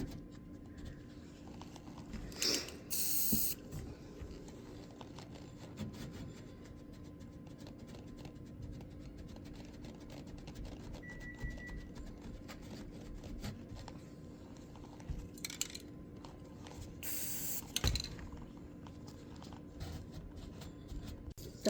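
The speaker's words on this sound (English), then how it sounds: "If we just spray a paper towel and dab that on" Two or three short hissing bursts of spray paint onto a paper towel, each lasting about a second, stand out against quiet rustling and handling noises.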